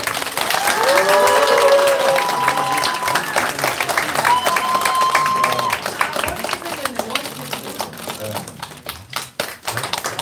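Audience at a Korean election campaign rally breaking into sustained applause, loud and dense at first, then thinning into scattered claps with voices underneath.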